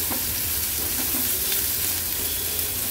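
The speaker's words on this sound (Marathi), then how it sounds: "आता यात आपण बारीक चिरलेला कांदा ऍड करणार आहोत।" Finely chopped onion frying in a pan for drumstick-leaf bhaji, a dense, loud, unbroken sizzle with soft stirring underneath.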